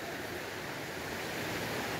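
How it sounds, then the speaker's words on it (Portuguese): A waterfall at Ipiranguinha in Ubatuba, Brazil, pours in a dense, steady rush of broadband water noise, loud and continuous with no voices. "aqui a cachoeira"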